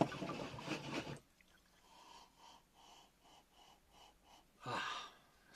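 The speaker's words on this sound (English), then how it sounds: "Let's give it a sniff." Someone sniffs a hazy straw-gold to amber cider from a glass, a series of short, soft nasal inhalations in a steady rhythm, framed by louder breathy exhales before and after.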